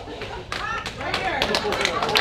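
Sparse clapping from an audience, a few scattered claps, uneven and thin, with a voice speaking over them.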